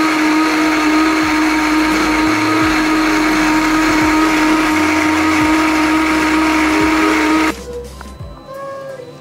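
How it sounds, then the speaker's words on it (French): A kitchen blender purees okra with peanut for a grated macabo dish, running as a loud, steady whir with a few pitch dips before it shuts off near the end. "Voilà, et puis je vais mixer."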